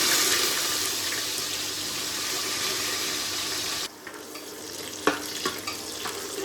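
Chowmein frying in a pan with stirring, a steady broadband sizzle that drops away partway through, followed by a few sharp utensil clinks against the pan.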